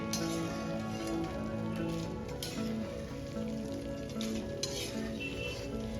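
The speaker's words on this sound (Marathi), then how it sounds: "आता आपल्याला हे शंकरपाळे छान गोल्डन कलर येईपर्यंत तळून घ्यायचे आहे" Salty khare shankarpale, a savory fried dough snack, frying in hot oil, giving a steady close bubbling sizzle that runs through the whole stretch with a constant low hum beneath it.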